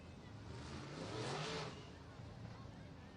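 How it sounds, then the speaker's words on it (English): Race cars circling a track during an SMS points race, a passing engine swelling to a peak and fading, with a steady engine drone and background noise throughout. "Cars are looking fantastic out here on the racing surface."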